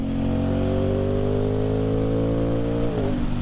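Aprilia Tuono 660 motorcycle fitted with an aftermarket exhaust, engine pulling in a long rising rev under throttle before cutting back sharply at the end; close, loud and continuous, with no voices.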